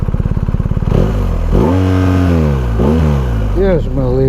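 BMW R 1250 RT motorcycle engine idling with a rapid even pulse, then revved in several rising and falling sweeps, loud and close, with no talk over it.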